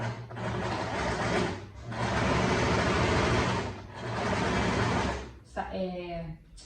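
A sewing machine stitches the cuff of a lab coat in three steady whirring runs separated by short pauses, and someone talks over the machine throughout.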